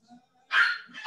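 A dog barking indoors during an online math class at home, two quick loud barks with a faint whimper before them.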